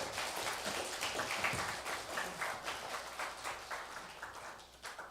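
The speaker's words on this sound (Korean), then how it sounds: "오늘 박수 한번 해주셔도 됩니다." A church congregation applauds during a deacons' dedication worship service, a steady, moderately loud wash of many hands clapping that fades slightly toward the end.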